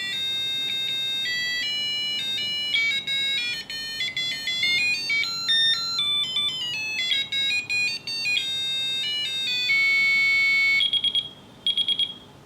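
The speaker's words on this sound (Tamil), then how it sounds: "இவங்களே பார்த்தீங்கன்னா 8 டிஃப்ரெண்ட் அலாரம் டோன்ஸ் வந்து கொடுத்துருக்காங்க" A gadget alarm clock cycles through several electronic alarm tones, bright beeping melodies and buzzing patterns played one after another, close and loud, with no talk.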